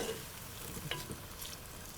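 Onions and garlic frying in a pan make a steady crackling sizzle that carries on throughout, with small pops and scraping stir sounds, and no one speaks.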